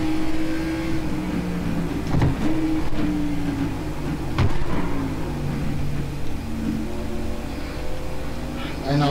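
A NASCAR race car engine in the iRacing game on the Daytona road course revs and climbs steadily through the gears, pitch dropping at each upshift, loud and close, with a voice speaking over it.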